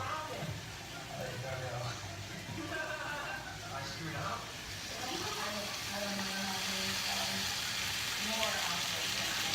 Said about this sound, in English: I just put a little bit olive oil and I'll put the fish in.